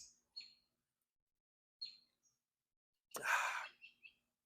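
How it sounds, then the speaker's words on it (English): Birds chirp outdoors on a hot, sunny day, with a few short, high calls spread apart, then a louder burst of rustling or breathy noise. The calls are faint and there is no talk between them. "You can hear the birds chirping, I hope,"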